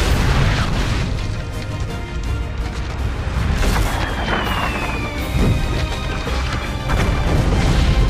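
Total War: Shogun 2 cannons fire in a continuous volley, a dense wall of booms, crashes and rumbling blasts that stays loud for the whole stretch without any speech.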